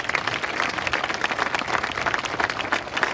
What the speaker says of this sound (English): So can we give them a round of applause one more time?